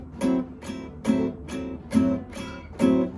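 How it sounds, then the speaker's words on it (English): La pompe rhythm guitar strumming, short detached chords with light accents on beats two and four, six evenly spaced strums, moderately quiet and close with no talking. "We want a nice short quality with a slight accent on two and four."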